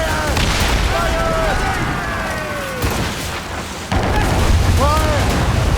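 Ship cannons fire in the Assassin's Creed Rogue game in a series of loud booming blasts, while a voice shouts orders over the heavy rumble.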